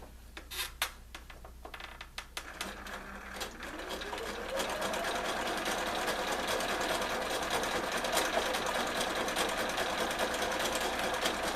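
Electric sewing machine stitching down appliqué palm tree leaves and trunks on a manatee quilt block, starting with a few short bursts and then running in a steady, close, continuous whir.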